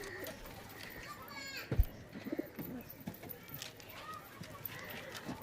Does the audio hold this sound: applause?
no